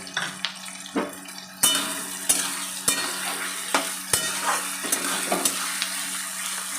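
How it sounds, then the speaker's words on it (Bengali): Salted onions and tomatoes fry in a pan, a steady close sizzle broken by sharp spatula knocks and scrapes against the metal, about one stroke every half second to second. "দু তিন মিনিট নাড়িয়ে চাড়িয়ে নিয়ে লাল লাল করে আমি এগুলো ভেজে নেব"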